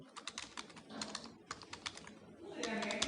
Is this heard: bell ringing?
no